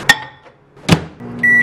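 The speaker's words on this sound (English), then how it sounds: "Then microwave." A kitchen microwave oven is started with two sharp clicks or button beeps, then settles into a steady low hum with a high tone at the end, close and fairly loud.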